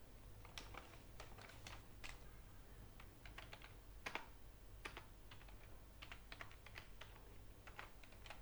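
Quiet, irregular tapping on a computer keyboard as SQL code is written, with bursts of keystrokes and short pauses over a low steady hum, close but soft.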